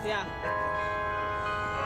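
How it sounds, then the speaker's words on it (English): Bells ring in the distance during an outdoor press conference in Roanoke, a steady, sustained metallic tone with ringing overtones that holds throughout under a low background murmur. "I didn't think about the bells ringing."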